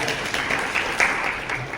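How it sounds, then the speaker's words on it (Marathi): An audience at a farewell function for a government ITI director in Chandrapur claps loudly in a dense, continuous burst with no pauses, filling the room. "जोरदार टाळ्या वगैरे."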